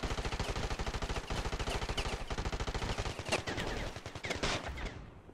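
Rapid, steady machine-gun fire rattles through a large Ravenfield video game battle, loud, continuous automatic bursts layered with other distant shots, tapering off near the end.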